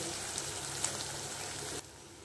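Potatoes with salt and turmeric frying in a pan give a steady, close crackling sizzle that runs evenly, then drops abruptly quieter near the end.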